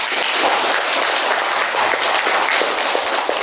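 Sustained applause from a classroom of students after a group presentation, a dense, steady wash of clapping filling the room without a break.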